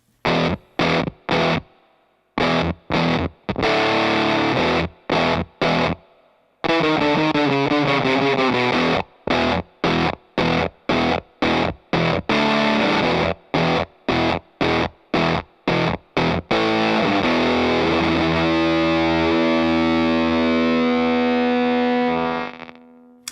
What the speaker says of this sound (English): you can get that really cool sort of gated Velcro type fuzz sound out of this pedal